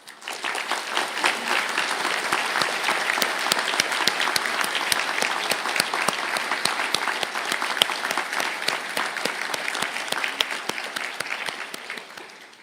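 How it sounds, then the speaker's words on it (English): An audience at a university conferring ceremony applauds graduates of marine conservation and conservation behaviour master's programmes, a dense, sustained burst of clapping from a large crowd that fades out at the end. "I ask the graduates of the Master of Science in Applied Marine Conservation and the Master of Science in Conservation Behaviour to stand for a round of applause."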